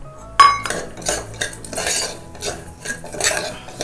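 Semolina roasting in a pan with cashews, raisins and charoli brings repeated metal spoon scrapes and clinks against the pan, fairly loud and close, with a soft sizzle beneath.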